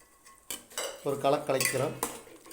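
A spoon scrapes and clinks against a metal pot of mutton curry with turmeric in a few quick strokes, close by, with a soft wet stirring texture.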